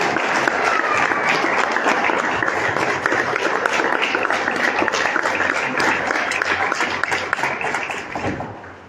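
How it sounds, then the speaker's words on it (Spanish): A church congregation at a worship service gives a strong, sustained round of applause, dense clapping that stays loud and even for several seconds before tapering off at the end. "denle un fuerte aplauso al Señor"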